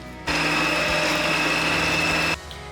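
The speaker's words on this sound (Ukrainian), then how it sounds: "Цибулину теж на шматочки перекрутимо на м'ясорубці разом з м'ясом." An electric meat grinder runs for about two seconds as it minces meat and onion, giving a steady, close, whining motor hum with faint clicks that starts and stops abruptly.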